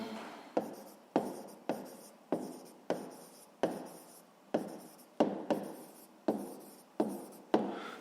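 A pen writes steadily on paper while an answer is noted during a sixth-grade math exercise, giving a close, dry scratching in about fourteen short strokes. Each stroke starts sharply and trails off, with no talk over it.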